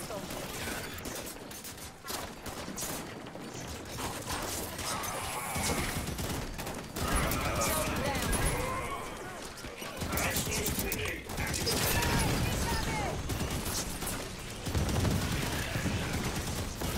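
Mounted turret fire rattles in the video game Halo 5 on hard difficulty, rapid bursts of gunfire and mechanical clatter in a dense, busy battle mix, with players talking over it.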